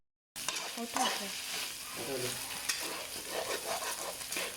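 Beef and pork stir-fried for dry suki in a hot pan, a dense continuous sizzle with rattling spatula strokes and clattering, close up and fairly loud, without speech.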